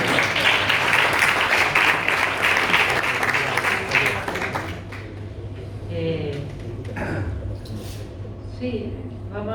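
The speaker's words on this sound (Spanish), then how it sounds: "Aplaudirle." Audience applause at a conference on convents of Seville held at the Ateneo de Sevilla, loud dense clapping for about five seconds that then fades into a murmuring room as a voice begins to speak.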